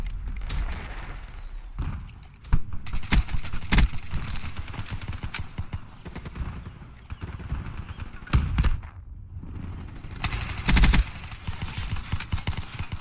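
Repeated gunfire through walls in the video game Call of Duty Black Ops 3, with scattered shots and dense rattling bursts from near and mid distance, mixed with mechanical clatter and brief quieter gaps.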